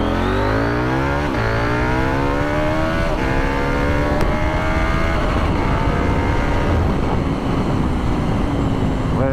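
A KTM 790 motorcycle engine drones loud and close while riding, with a steady roar and rising pitch as it runs through the gears, and no talking.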